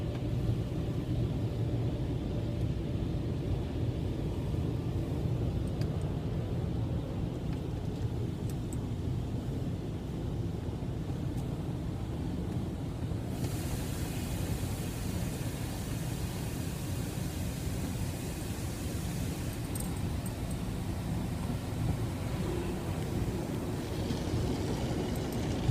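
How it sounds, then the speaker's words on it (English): A car sits inside an automatic car wash, with steady loud rumbling and broadband spray and brush noise throughout; the wash texture brightens partway through, and no voices are heard. "We're gonna go through the car wash."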